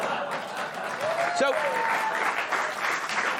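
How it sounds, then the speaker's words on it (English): Studio audience applause fills the whole stretch at a steady, fairly loud level, with a brief voice cutting through near the middle. "now they clap."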